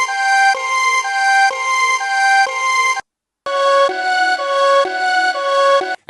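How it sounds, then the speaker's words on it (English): A loud synthesized police siren sample, pitched, in two long bursts, with a rising-and-falling tone stepping between pitches, a short silent gap between them. "we want it to sound a little bit more like a police siren"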